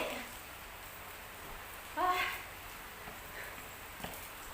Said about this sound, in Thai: อากาศหนาวค่ะฝนตกค่ะ